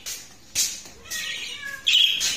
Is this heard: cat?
yes